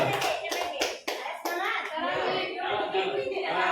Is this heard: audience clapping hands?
yes